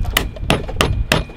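Hammer banging on a cooked crab's shell, four sharp hard knocks spaced evenly about a third of a second apart, close and fairly loud.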